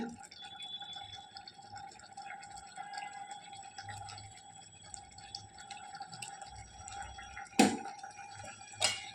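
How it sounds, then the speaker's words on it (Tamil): A brinjal masala curry boils in a covered pot, making quiet, continuous bubbling with soft drips and a couple of sharper clinks toward the end. "மூடிடுவோம் நல்லா கொதிச்சு வருது"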